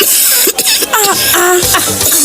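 A sharp cough bursts out amid lively market chatter and background noise, close and fairly loud.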